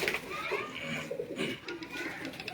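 Pigeons cooing at a pigeon club's sale point in Mianwali, soft low coos close by, with children's voices and other chatter in the background.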